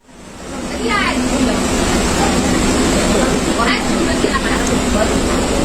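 Inside a moving local train running from Coochbehar to Siliguri, a loud steady rumble of wheels and carriage fills the scene, with faint rhythmic clatter over the rails.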